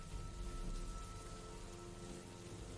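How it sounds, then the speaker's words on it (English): Steady rain and thunder ambience in a fantasy tabletop adventure setting: a continuous, dense wash of rainfall with a low rumbling bed underneath, fairly quiet and even throughout, with no voices. "It's just rain, thunder, the sound of your boots hitting mud and wet grass."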